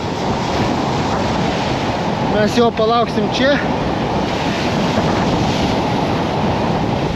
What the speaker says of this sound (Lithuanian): Bangos eina iki pat mūsų